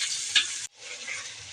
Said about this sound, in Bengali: এগুলো মাছগুলো ভেজে নিচ্ছি ডিমের জন্য।